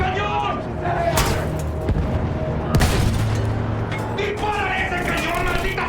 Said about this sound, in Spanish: ¡Dispara ese cañón, maldita sea!